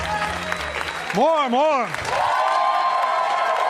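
Comedy club audience at Gotham Comedy Club applauding and cheering loudly for a comic from Last Comic Standing, a steady wash of clapping with a whoop partway through, under a host's voice.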